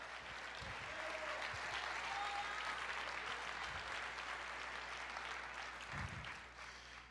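A church congregation applauding the Lord, a dense, even wash of clapping that holds steady and fairly distant for several seconds before thinning slightly at the end.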